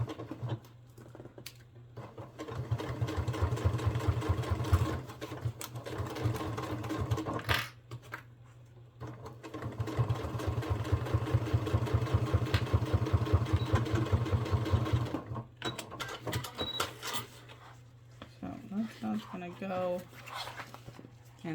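Home sewing machine top stitching a fabric fanny pack, a rapid steady needle rattle running in two long bursts with a pause between, followed by shorter stops and starts, up close.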